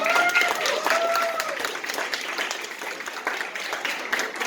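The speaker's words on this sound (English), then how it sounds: "Can we give our voice actors a big round of applause?" Crowd applause for voice actors at a convention panel, a sustained wash of clapping with a few whoops and cheers rising over it early on, then settling into steady clapping.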